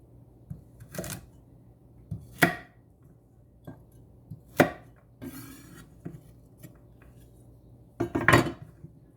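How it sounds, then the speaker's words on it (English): Carrots being cut into small pieces with a knife on a board, five sharp chopping strikes spaced irregularly with quiet pauses between, close and clear, no speech. "So first I'm going to cut up the carrots"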